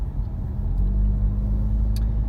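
A car cruises slowly through John Chesnut Sr. Park in Florida, its engine a steady low rumble heard from inside the cabin, with no voices.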